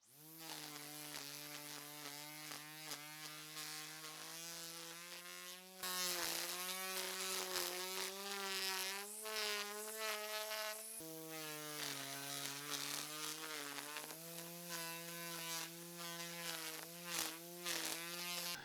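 A cordless power tool with a newly replaced motor runs alone with a loud, steady buzzing whine, its pitch stepping up and down as it is triggered at different speeds across several bursts.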